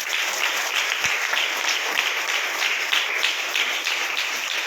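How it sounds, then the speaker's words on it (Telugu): Audience at a Christmas 2021 church gathering in Ibrahimpur claps in a dense, sustained burst of applause, steady and fairly loud throughout. "ఒక్కసారి ఆయనకు గట్టిగా చప్పట్లు కొడదాం."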